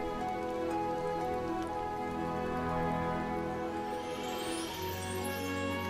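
Steady rain falls in the desert town of My Time at Sandrock, a video game, as a continuous patter layered over sustained tonal game music, constant in level with no voices.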